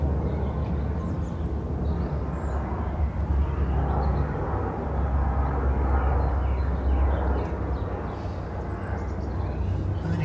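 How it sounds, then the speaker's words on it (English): Aircraft passing overhead outdoors, a broad continuous low rumble that swells gradually and fades slightly toward the end. "Just wait for that overflying aircraft to pass."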